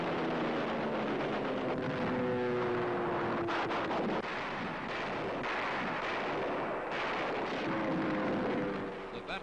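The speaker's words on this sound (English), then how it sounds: "Under intense fire, a low-flying kamikaze heads through the fleet straight for her." Navy anti-aircraft guns fire heavily at low-flying kamikaze planes attacking the carrier Saratoga, a dense continuous roar of booming bursts with an engine drone weaving through it, and no pause.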